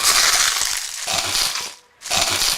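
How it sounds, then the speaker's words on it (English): Loud, close crunching of KFC Extra Crispy fried chicken, several crackly bites with a brief pause before one more crunch. "There's only one fried chicken that sounds like this."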